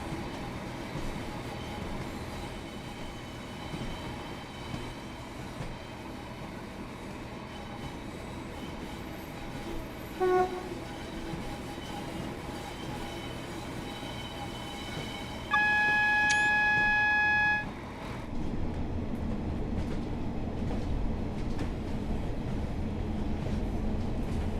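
A train in Train Sim World 4 runs along the West Coast Main Line toward Preston, with a steady rumble of wheels and body noise, a brief whistle-like tone in the middle and a short squeal later, and no voices.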